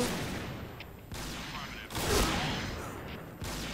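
Gunfire in the online shooter Point Blank during a sniper match, a few sharp shots and bursts scattered through a noisy game mix, with a louder blast near the middle.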